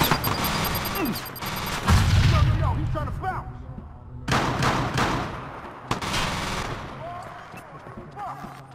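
Bomb blasts and gunfire in the video game Watch Dogs: a heavy explosion near two seconds, then bursts of rapid shots and further booms, with talk over parts of the action.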